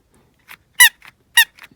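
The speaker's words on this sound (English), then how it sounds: "This is what's making some squeaky noise." Squeaky toots from the accordion bellows of a vintage Schylling Playful Penguin Race roller coaster toy, two loud sharp squeaks with softer faint squeaks between them, heard alone.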